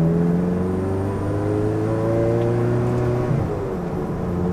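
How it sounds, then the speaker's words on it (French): A Ferrari 360 with a reprogrammed F1 gearbox hums at low speed with a steady, tonal engine note that shifts pitch gradually, then briefly dips and rises again as the throttle changes. "Au rétrogradage, ça met un coup de gaz qui est assez impressionnant."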